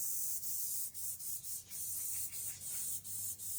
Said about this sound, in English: Yes, I am airbrushing in oil using an Iwata airbrush.